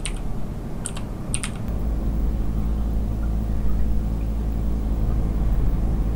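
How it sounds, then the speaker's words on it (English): Brief clicks of keys on a computer keyboard at the start, a few quick taps, then a steady low hum takes over for the rest. "So let's type Wooly and see what happens."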